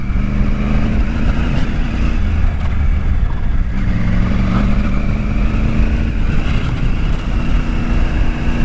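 Adventure motorcycle on a dirt trail with traction control off, a constant loud engine roar and wind rush, the rear wheel briefly spinning as revs surge and dip, with no voices.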